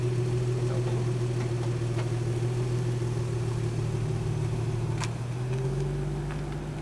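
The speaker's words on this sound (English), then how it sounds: "Driving the car." A steady car engine hum while driving, with a low drone and a higher tonal whine, running continuously and fairly loud, shifting slightly in pitch near the end.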